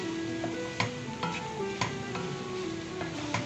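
A spoon stirs coriander powder and crushed red chilli into a sizzling masala in a pan for a chicken macaroni dish, with steady frying hiss and several sharp scrapes and clinks at irregular intervals, close and fairly loud, no voices.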